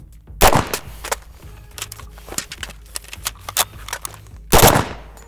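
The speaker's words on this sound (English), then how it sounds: "1 round 1 reload comparing the MP5 10 to the 9." An MP5 chambered in 10mm Auto fires on a range, with two sharp, loud reports several seconds apart and a run of metallic clicks and clacks of reloading between them.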